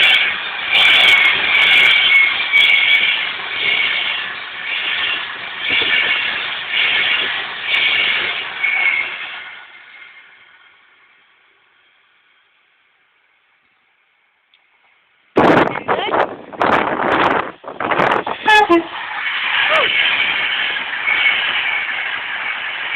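A Pendolino express train roars past loudly with a rushing wind, fades almost to silence, then a second loud burst of rail noise follows with a brief horn-like tone.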